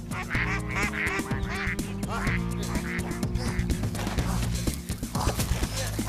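Ducks quack repeatedly and fairly loudly nearby, a dense run of nasal calls overlapping with music and rhythmic cartoon sound effects throughout.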